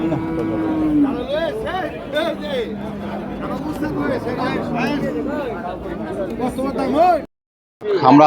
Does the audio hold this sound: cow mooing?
yes